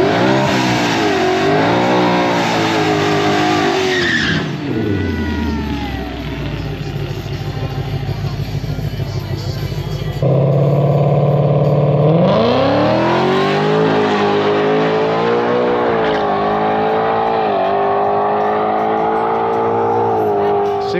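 An ESS G3R supercharged Ford Mustang GT with a 115 pulley accelerates hard on a drag strip, loud and close, its engine note climbing through gears in two sustained pulls with a brief lift between them.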